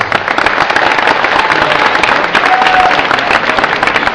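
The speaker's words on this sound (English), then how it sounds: "Charlene Ingram, you want to come on up and we'll give her a round of applause." Audience applause at an anime convention panel as Charlene Ingram is called up, a loud, close, crowded clapping that stays steady throughout with some crowd noise mixed in.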